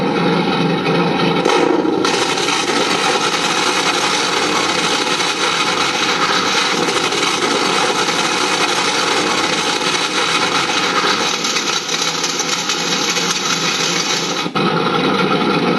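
A loud, harsh mechanical grinding and rumbling kill sound effect from a Heng Long RC toy tank runs steadily for about fifteen seconds, with no talking.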